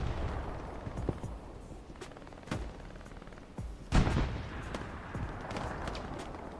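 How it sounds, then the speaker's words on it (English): A rocket shot fired in the WWII game Hell Let Loose, a sharp blast standing out from steady distant gunfire and scattered explosions across a busy battlefield. "Rocket."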